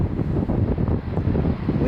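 Wind buffeting a microphone outdoors at an airport on a misty, cold, foggy night, a steady low rumbling gust noise with no talk.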